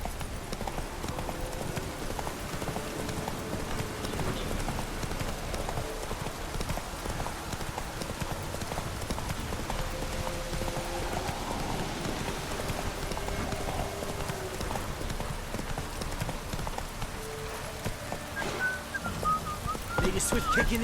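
Roach the horse gallops in The Witcher 3, a fast steady patter of hoofbeats throughout, with whistling and a voice over the top.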